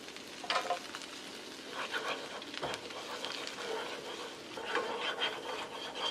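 Vegan butter and all-purpose flour sizzle and fry in a pan while being stirred, with soft scraping and crackling that rises and falls, fairly quiet and close.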